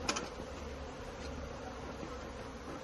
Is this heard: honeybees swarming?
yes